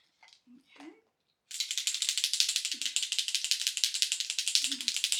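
Bottle of Light Me Up Luminous setting spray shaken vigorously, a loud rapid rattle of the mixing ball in fast steady rhythm lasting several seconds, preceded by brief quiet sounds and with faint breaths between.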